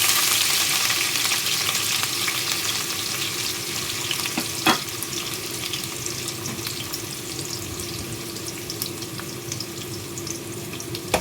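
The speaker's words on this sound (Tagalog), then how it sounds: "Ayan mga kumari, nag-ininit ko na yung oil. So ilagay ko na yung sibuyas." Chopped onions fry in hot oil in a pan, giving a steady, close, hissing sizzle that fades slightly over time. A few faint clinks of a spatula break through, and no one speaks.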